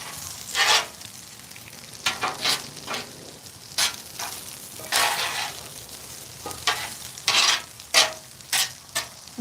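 Sausage sizzles steadily on a Blackstone griddle with the burner turned low, a constant frying hiss broken by repeated scraping and stirring strokes of a spatula.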